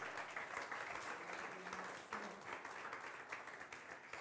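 A church congregation applauds its choir, steady crowd clapping filling the whole stretch at moderate distance, with a few voices faintly mixed in beneath the claps.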